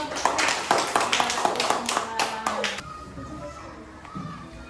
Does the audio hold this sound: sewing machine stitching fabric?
no